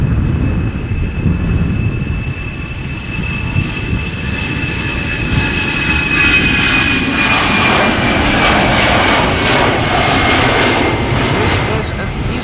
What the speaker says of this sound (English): This is an EasyJet A319 flight 27985 outbound South End.